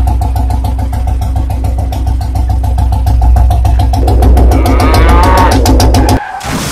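A motorbike engine runs loudly and close, its rapid even firing pulses holding steady and rising slightly in pitch before cutting off abruptly near the end.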